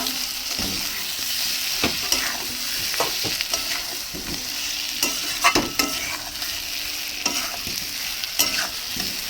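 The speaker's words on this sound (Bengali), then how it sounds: "আলুগুলো দিয়ে আমি ভালো করে কষিয়ে নিচ্ছি।" Potatoes frying in a pan, a continuous loud sizzle over a village kitchen fire, with repeated spatula scrapes and knocks spread through it at an uneven pace, and no one talking.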